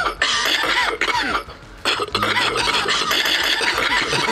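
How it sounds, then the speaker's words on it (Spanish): A coughing sound effect played from a phone app: a cluster of rough, harsh coughs, loud and close, with a brief gap in the middle before the coughing resumes. "Hay una aplicación que tiene toses."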